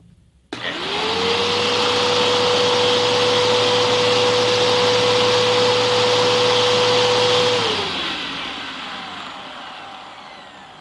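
A Bissell Powerforce upright vacuum cleaner, just rebuilt with upgraded bearings, switches on sharply, runs with a loud steady whine and motor roar, then shuts off and winds down over a few seconds.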